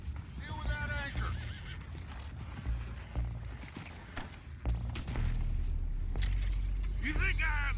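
Horses whinny in Red Dead Redemption 2 game audio, with rising harmonic neighs near the start and again at the end, over continuous low rumble, thuds and clattering mechanisms, with voices speaking in between.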